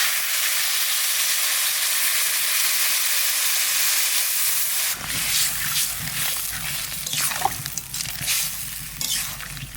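Crab cooking in a pan bursts into a loud, crackling sizzle partway through as water is added, following a steady hiss and stirring; the spitting and bubbling stay close and busy to the end.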